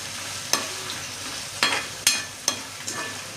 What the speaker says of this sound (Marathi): आता आपण याच्यामध्ये काळा वाटाणा आणि बटाटे टाकून त्याला छान मिक्स करून घ्यायचं आहे